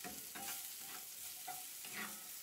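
Garlic frying in a hot pan while being stirred, a quiet continuous sizzle broken by several scraping strokes of the utensil at a steady pace, close and alone without any voices.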